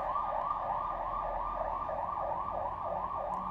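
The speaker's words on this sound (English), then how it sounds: "The sirens are getting closer." Emergency vehicle siren wailing in a steady rapid rising-and-falling cycle, distant and fairly faint over a low background rumble, heard from indoors.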